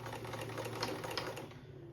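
A sewing machine runs steadily while stitching a patriotic zippered seat cushion cover for a front porch, a fast, even mechanical chatter heard up close and fairly quiet, with no voices.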